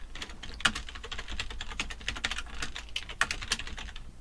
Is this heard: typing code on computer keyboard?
yes